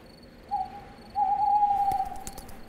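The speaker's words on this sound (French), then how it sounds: "Y a des chouettes par ici?" An owl hoots at night outdoors, a short call followed by a longer sustained hoot, clear and fairly close against a quiet background with faint insect noise.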